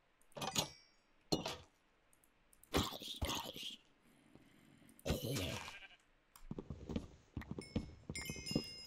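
Sheep in the Minecraft video game bleat several times in separate bursts, mixed with clinking and light thuds, fairly quiet, with no talking.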